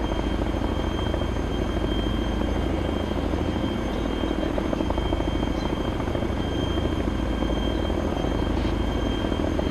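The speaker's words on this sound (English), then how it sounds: "go ahead and turn the engines off so you can hear ourselves think" Helicopter engines run steadily inside a military video game, a constant loud rotor drone with a rhythmic chop and a whining turbine tone, continuous throughout and with no talk.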